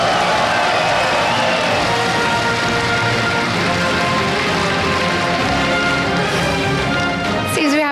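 At a League of Legends championship esports event, a large arena crowd cheers and claps in a dense, sustained roar that holds steady throughout, loud and enveloping, with a faint voice near the end.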